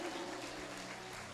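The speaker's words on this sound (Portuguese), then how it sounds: "Se for para aplaudir, aplaude direito" A church congregation applauding during a service, dense continuous clapping from a crowd that stays loud and even throughout the short stretch.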